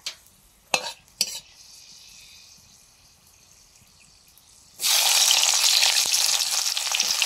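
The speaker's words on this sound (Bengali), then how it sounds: "তেল গরম হয়ে গেছে, শুকনো লঙ্কা দিলাম তেলে" Dried red chillies dropped into hot mustard oil for a chickpea and potato curry: a few sharp clinks and a quiet low sizzle, then a sudden loud, sustained crackling fry.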